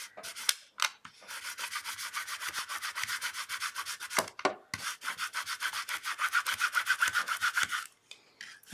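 A Cricut scraper scraping across a cutting mat, rapid rhythmic rasping strokes up close in several bursts separated by brief pauses, with no talking.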